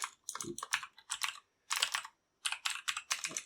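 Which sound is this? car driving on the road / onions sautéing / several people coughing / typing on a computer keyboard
typing on a computer keyboard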